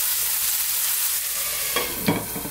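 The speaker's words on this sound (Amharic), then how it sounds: "በደንብ ቲማቲማችንን እንጠብሳለን ከሽንኩርቱ ጋር።" Tomatoes frying with onion in a pan for shimbra fit fit, a steady close sizzle with a couple of stirring scrapes near the end and no talking.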